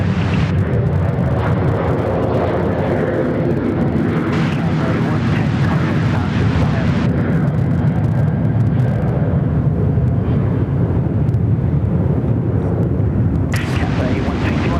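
An Airbus A350-1000 airliner at Sydney Airport gives off a steady, loud roar of jet engines, broad and constant throughout, with people talking over the noise.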